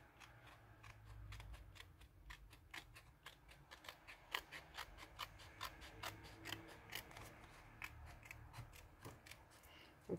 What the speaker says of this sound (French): Avec des petits ciseaux, c'est aussi bien.